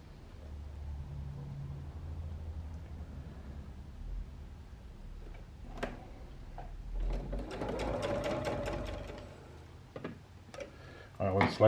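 A sewing machine stitches two fabric pieces together for a Christmas table runner, a soft steady mechanical whir running for a few seconds in the middle, with quiet talk and small handling clicks around it.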